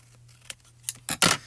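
Spellbinder scissors snip through paper in a few sharp, close cuts, with the loudest snips bunched near the end and no talking.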